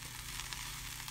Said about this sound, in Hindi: अब हमारा मसाला बहुत बढ़िया से भून चुका है